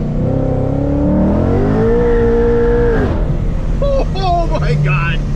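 A 700 hp supercharged Ford Mustang driven in manual mode on back roads: loud, close engine revving that climbs steadily in pitch and then drops off sharply.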